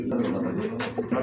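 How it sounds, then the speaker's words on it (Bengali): A pair of large, high-quality pigeons in a cage gives low, rounded coos close by, a soft rolling murmur with a couple of brief, brighter accents. "খুবই ভালো মানের এক জোড়া কবুতর"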